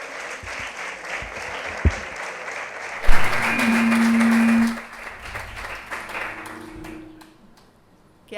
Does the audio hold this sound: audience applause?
yes